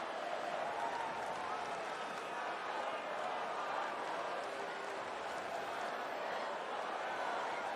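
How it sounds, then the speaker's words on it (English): Lively crowd noise fills a baseball stadium in San Diego during a Braves vs Padres game, a steady broad murmur and cheering that continues without a break, with speech running over it. "Lively crowd in San Diego tonight"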